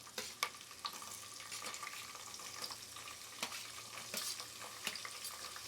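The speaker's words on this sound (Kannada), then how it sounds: "ಈಗ ಸ್ವಲ್ಪ ಈರುಳ್ಳಿ ಹಾಕೋತೀನಿ." Onions fry and sizzle in a pan for pulao while being stirred, a steady close hiss broken by scraping spoon strokes and clicks against the pan.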